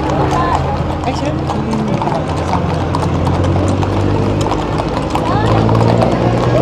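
Horse hooves clip-clop steadily on pavement during a street parade in Baguio City, close and continuous, with people talking over the rhythmic clatter.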